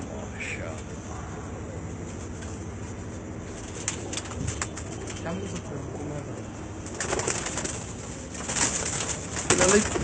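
Neel Dum pigeons coo repeatedly at close range, with low throaty calls running through and a few wing flutters and rustles, over some background noise.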